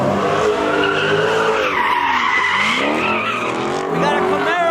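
A Camaro and a 392 race at a car meet, tires squealing in loud, sustained shrieks that rise and fall over the engines, with voices mixed in.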